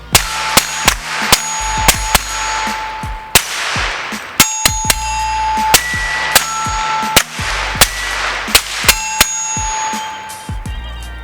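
Thompson Center TCR-22 rifle, a 10/22-style competition .22, firing a Ruger magazine: sharp, loud gunshots in a steady series with ringing metallic clangs between them, roughly a shot every half second to second, no talking.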